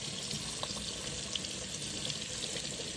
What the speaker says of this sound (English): We're going to give it a rinse out.